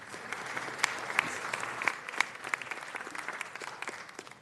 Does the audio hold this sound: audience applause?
yes